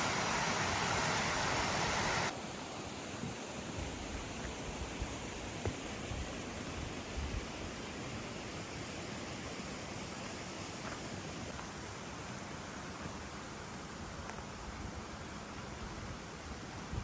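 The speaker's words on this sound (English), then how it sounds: "Oh, this is a special waterfall." A waterfall on the Thomas Canyon Trail in the Ruby Mountains near Lamoille, Nevada, rushes in a steady, broadband roar that stays even throughout, faint and without talking.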